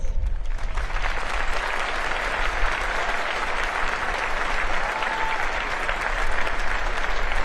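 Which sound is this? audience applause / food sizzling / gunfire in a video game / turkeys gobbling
audience applause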